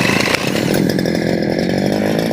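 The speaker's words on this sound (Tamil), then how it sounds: "இன்ஜினில் எந்த ப்ராப்ளம் இல்லைன்னா இப்போ நம்ம அடிக்கும் போது ஆன் ஆகணும்." A small petrol engine on a grass cutter machine, with a new spark plug fitted, fires and runs with a rapid, buzzing two-stroke putter, loud and close throughout.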